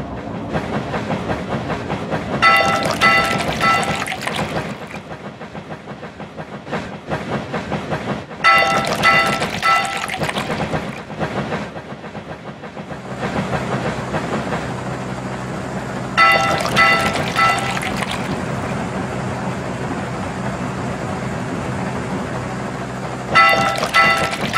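Game sound effects from a dinosaur train racing video game: a steady rolling rail clatter punctuated by repeated bright, chime-like bursts, fairly loud and continuous with no voices.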